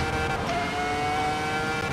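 A race car in the Assetto Corsa EVO sim lapping Imola, its engine a steady high-pitched whine with a faint shift or swell partway through, constant and loud, no talk.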